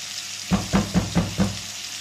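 Pork sizzles as it fries in a pan while five quick, evenly spaced scraping knocks sound nearby, like stirring against the pan.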